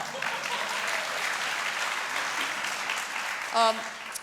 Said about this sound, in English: Yeah, you can applaud them.